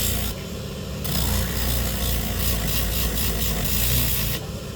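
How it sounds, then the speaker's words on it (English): Steady abrasive rasping of sandpaper working over wood, continuous and close, with a slight surge in intensity partway through. "I'm sanding it down"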